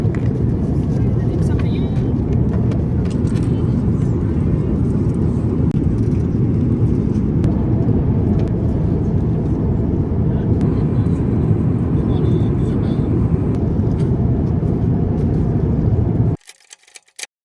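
Steady, loud cabin roar inside an airliner on a long-haul flight, a broad continuous drone that holds unchanged for about sixteen seconds before cutting off abruptly.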